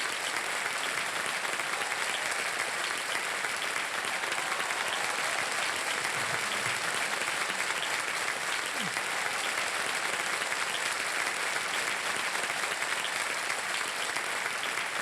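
A studio audience on the KBC quiz show, applauding hard in a dense, unbroken wash of clapping that holds steady from start to finish.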